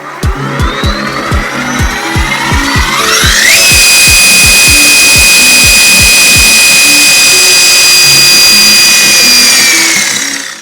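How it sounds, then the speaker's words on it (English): A Falcon Gear Drive running fully assembled: quick mechanical ticks rise into a loud, steady high-pitched whine that holds and then fades slightly, close and alone. "So there it is, Falcon Gear Drive, fully assembled, functioning."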